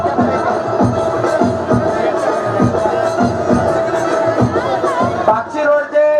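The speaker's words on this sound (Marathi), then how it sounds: "सध्या गर्दी खूप दाटवलेली आहोत" A large crowd at a village wrestling match, a dense murmur of chatter that stays loud and steady under a loudspeaker announcer talking, with regular dull thumps at a steady beat.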